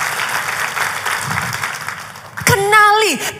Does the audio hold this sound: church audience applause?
yes